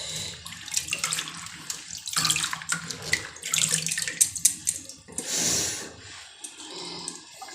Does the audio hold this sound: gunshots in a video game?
no